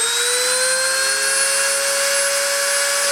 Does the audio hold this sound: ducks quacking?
no